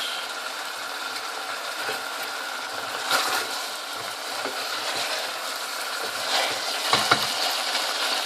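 Chicken karahi with cumin frying in a pot, a steady sizzle with occasional scraping and clinking as it is stirred, fairly close and continuous with no voice.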